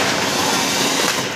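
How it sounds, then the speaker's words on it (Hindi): Firecrackers going off during Diwali celebrations fill the air with a dense, loud crackling roar that holds steady and continuous for the whole moment, with no voices heard. "शाबाश, तुमने पटाखा फोड़ दिया।"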